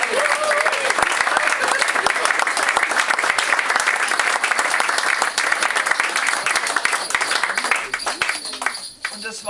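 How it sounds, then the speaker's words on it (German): Loud, dense applause fills a carnival session hall, steady for most of the stretch before thinning out near the end, with crowd voices mixed in. "Auch ja, nochmal Applaus."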